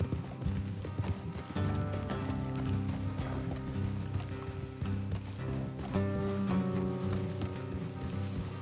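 Horses galloping in Red Dead Redemption 2, steady clip-clopping hooves running continuously under a dense bed of game music, fairly loud throughout.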